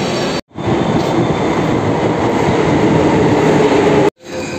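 A Delhi Metro train rumbles steadily with a dense, continuous roar, broken by two brief cuts; no voices stand out.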